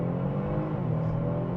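A 2023 Kia Stinger GT with a 3.3-litre twin-turbo engine of 378 horsepower launches hard under launch control, giving a loud, close, steady engine roar with gently rising tone and no voices.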